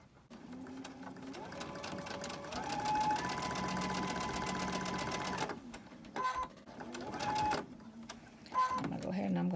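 A sewing machine runs straight-line stitches on fabric, a steady mechanical whir lasting several seconds, then stopping and restarting in shorter bursts, close and moderately quiet.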